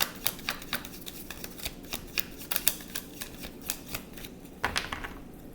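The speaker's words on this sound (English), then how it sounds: "Quick shuffle." Rapid riffling tarot card shuffles, crisp flutters in quick bursts, close and dry, with a brief pause before a final riffle.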